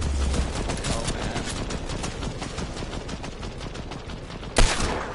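Video game gunfire crackles in dense rapid bursts from a squad shooter match, loud and continuous, with a sharp louder blast near the end.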